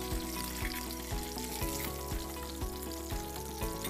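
Sea bass fillets fry in a pan with a dense, steady crackling sizzle that holds throughout. Faint rhythmic clicks sit beneath it, and there is no speech.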